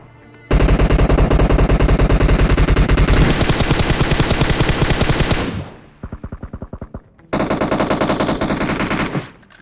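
Rapid automatic gunfire in the PUBG Mobile video game during an end-game fight, loud sustained bursts of machine-gun shots, a brief pause, then a shorter stuttering burst and another long volley.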